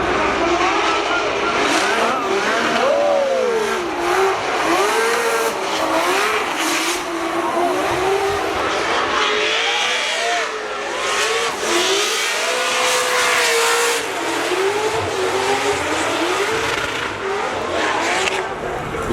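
A twin-supercharged V12 Aston Martin race car revving hard on a track, engine pitch climbing and falling through repeated throttle blips with brief tire squeal, loud and close over nearly twenty seconds.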